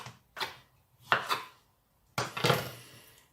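A knife slices beetroot on a cutting board while pickled beetroot is being made at home: three separate chopping bursts with brief gaps between them, close and fairly quiet, with no speech.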